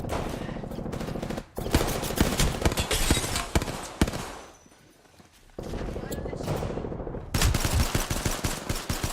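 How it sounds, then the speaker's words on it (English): Rapid gunfire strikes the player in a squad-based shooter video game, bursts of automatic shots clattering loudly and repeatedly, briefly dropping away before resuming, under constant game effects. "I'm getting shot at"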